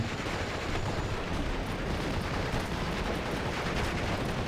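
Mortar and machine gun fire in the video game Steel Division Normandy 44, a dense continuous roar of gunfire and blasts filling the whole moment.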